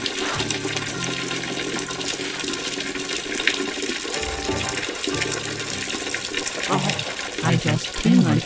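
A toilet flushes in an animated short film, with a rushing, gurgling water sound that continues for several seconds while a voice talks over it.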